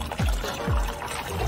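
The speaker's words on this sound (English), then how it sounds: "Some boiling hot water first." Boiling hot water is poured into a container for a homemade slime experiment, a brief gurgling splash with a couple of falling glugs, close and moderately loud with no voices.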